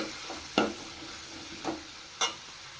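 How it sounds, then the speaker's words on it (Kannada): Onions and carrots frying in a pan for chapati egg noodles give a steady soft sizzle, broken by three brief scraping stirs of the spatula, fairly close and without talk. "ಕ್ಯಾರೆಟು ಚೆನ್ನಾಗಿ ಫ್ರೈ ಮಾಡ್ಕೋಬೇಕು"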